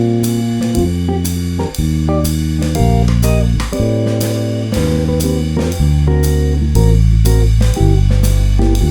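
A jazz bass line alternating root and fifth on beats one and three, plucked notes deep and prominent under steady piano or band accompaniment, a continuous loud groove with no talking.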